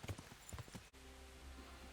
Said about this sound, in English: And there he is, the magnificent beast, Binky, Death's horse.